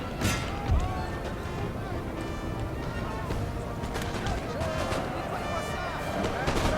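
Musket volleys crackle through a Napoleonic battle in Napoleon Total War, with dense overlapping shots and thuds, a few louder reports standing out amid constant battlefield noise.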